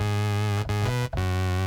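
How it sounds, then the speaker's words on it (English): A gritty synth bass through a fuzz pedal holds buzzing low notes with a couple of quick note changes, loud and alone. "we get a much more biting, sharper sound."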